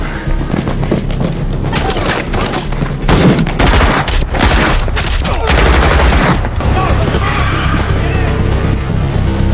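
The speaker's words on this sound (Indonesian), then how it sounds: "saat melarikan diri menembus hutan, Monica ternyata terkena tembakan peluru" Rapid bursts of gunfire crack and boom amid a chaotic action scene of an escape through a forest, with engine noise, skidding and shouting voices, loud and close.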